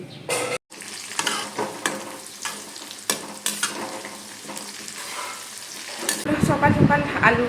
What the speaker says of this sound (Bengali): এখন এই বেরেস্তাটা ফ্রাই করে নেব